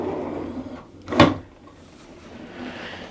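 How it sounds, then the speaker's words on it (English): A single drawer slides open or shut beneath the furniture in an AQUA Class balcony stateroom aboard the Celebrity Reflection cruise ship, one short, clear knock-and-slide standing out against quiet room tone. "underneath there's a drawer right here for additional storage"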